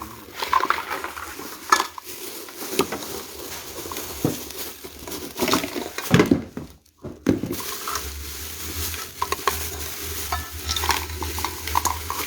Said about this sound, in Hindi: ये कुकर यहाँ पे करेंगे फिट, ये जाली करेंगे यहाँ पे फिट, इसको करेंगे बंद।